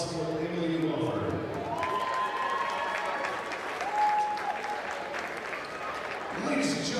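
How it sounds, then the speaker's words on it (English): A crowd applauds steadily for several seconds at halftime of a high school varsity boys basketball game, a dense wash of clapping with scattered cheers and a voice speaking over it. "One more big round of applause for these seniors."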